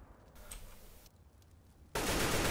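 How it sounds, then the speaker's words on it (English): Gunfire in a Counter-Strike match comes as faint scattered shots, then a sudden loud, sustained burst of shooting takes over for the last half second. "finally KTB gets a kill"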